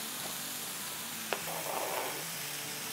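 Keema and potatoes sizzle softly in a pan after green onions go in, making a steady low frying hiss. A single small clink of utensil on pan comes partway through, and nobody talks.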